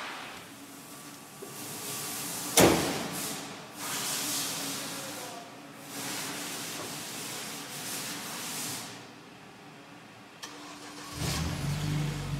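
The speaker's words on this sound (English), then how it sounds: "I'm just gonna start it up now and check the wastegate, make sure it's within spec" A Hyundai Genesis Coupe 2.0L turbo engine cranks with a sharp mechanical burst and then settles into a steady idle, with rising and falling swells, ending in a louder rev near the close.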